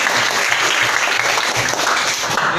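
A classroom of students applauds together in a brief, dense burst of clapping that stays loud and steady from start to finish.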